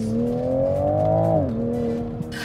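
A modified MK5 Toyota Supra's engine climbs in pitch as it accelerates hard, then drops sharply on the shift and settles, heard loud from inside the car with no talking.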